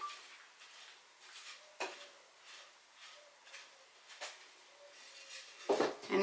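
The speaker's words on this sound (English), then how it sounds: "And then you just mix it into the top portion of your soil. Get it all nicely stirred." Fertilizer being stirred into the top layer of soil in a seedling flat makes soft scraping, rubbing strokes in uneven bursts, close and quiet, with a sharper scrape near the end.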